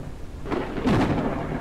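Thunder from a storm in the Forever Skies video game rolls in as a single swelling low rumble over steady rain hiss, close and fairly loud, with no talk.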